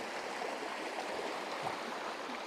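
Creek water flows continuously in a steady, broadband rush with soft gurgles, close and even throughout, with no voices.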